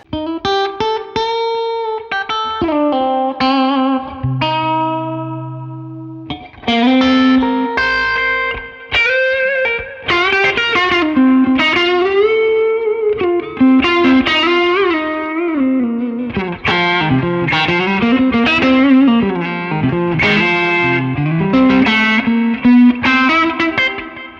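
A Fender American Professional Classic electric guitar on the neck pickup, played through drive and delay, rings out in loud, continuous melodic phrases with sustained overdriven notes and echoing repeats, alone without talk.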